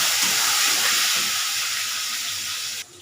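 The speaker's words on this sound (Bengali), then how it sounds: "আলুতে আলুটা আমি ভেজে নিচ্ছি" Potatoes frying in hot oil, a loud even hissing sizzle close by that cuts off abruptly near the end, no talk.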